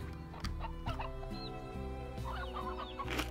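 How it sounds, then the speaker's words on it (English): Chickens cluck repeatedly in the game Slime Rancher, a series of short, soft clucks and chattering calls over a low steady hum, with no talk. "I have now chickens."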